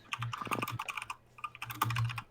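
Rapid typing on a computer keyboard, close and distinct, with bursts of key clicks separated by a short pause, no speech.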